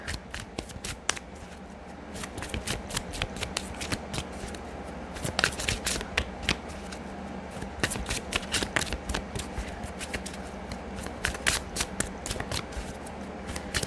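Oracle cards from the Angel Medicine deck being shuffled, a steady run of soft, crisp card riffles and slaps close by, continuing for several seconds without talk.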